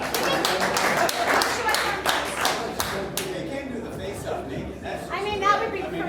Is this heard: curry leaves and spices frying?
no